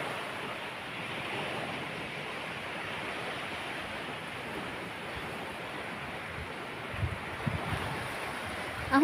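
Calm sea waves wash in at low tide as a faint, steady surf hiss, with slight wind buffeting near the end and no talking.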